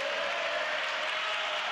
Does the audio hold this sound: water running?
no